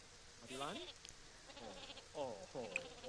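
Goat bleating in the farming video game Baker's Life, several faint wavering cries spaced across a few seconds in a quiet scene.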